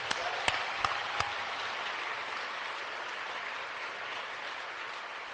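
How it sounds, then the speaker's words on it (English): Audience at a cyber-security conference applauding first responders: a broad, steady wash of clapping from a large crowd, with a few sharp claps standing out near the start, sustained evenly for about five seconds. "how about a round of applause for our first responders?"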